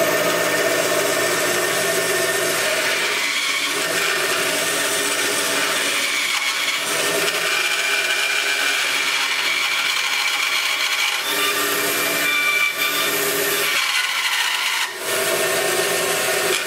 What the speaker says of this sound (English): We'll cut these out on the bandsaw.